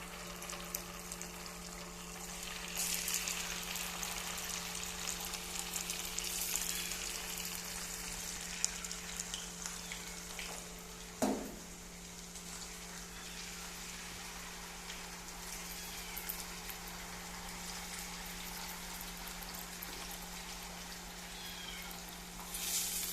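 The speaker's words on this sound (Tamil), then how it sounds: "எண்ணெய் வந்து நல்லா சூடாயிடுச்சு இப்போ வந்து நம்ம மசால் போட்டு வச்சுருக்கிற சிக்கனை வந்து எண்ணெயில் போட்டுக்கலாம்" Marinated chicken 65 pieces frying in hot oil, giving a steady, fairly quiet sizzle that runs throughout with one brief clatter midway and no talking.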